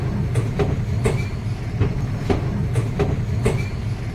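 A train pulling out of Rampurhat station, a steady rolling rumble with a rhythmic clickety-clack of wheels over rail joints and faint squeals, heard from on board with no talk.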